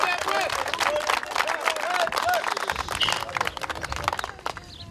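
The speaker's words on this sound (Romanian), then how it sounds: "Dar hai să-l aplaudăm, că merită!" Applause from a crowd at an amateur football Super Cup celebration in Cimișlia district, Moldova, mixed with loud talk and cheering, dense and steady for several seconds before thinning out near the end.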